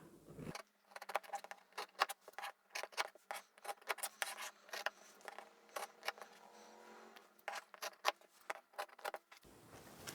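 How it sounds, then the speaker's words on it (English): Scissors snipping through cotton or upholstery fabric to cut out bag corners, a quiet close run of crisp, irregular snips and short slicing strokes with brief pauses between them. "And we can cut those corners out now too."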